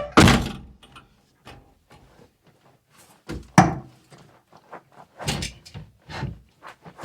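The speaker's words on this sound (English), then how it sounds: "Close the door." Datsun 280Z car door shutting with a single solid thunk near the start, followed by quieter interior clicks and rustling from seat fitting.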